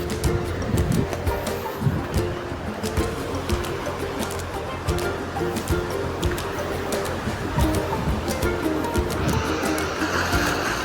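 Sea waves break steadily against seashore caves on the Dwarka coast, a dense, continuous roar of surf and churning water with a few louder surges and no talking.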